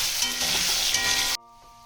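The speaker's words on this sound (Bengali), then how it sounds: "আলুটাকে লাল লাল করে একটু মশলার সাথে ফোড়নের সাথে ভেজে নেব" Potatoes fry with spices and tempering in a pan, giving a loud, dense sizzle up close. The sound stops abruptly, leaving near quiet.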